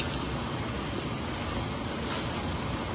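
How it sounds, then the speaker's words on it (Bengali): Heavy rain pours down steadily, a dense, close hiss of drops drumming on surfaces with no pauses and no voices. "এত জোরে বৃষ্টি এসে গেল"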